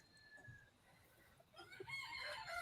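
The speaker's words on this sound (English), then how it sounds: "As you can hear in the background, she's got roosters." A rooster crows on a small farmstead, rising to a loud, sustained call in the second half after a quiet stretch of faint background.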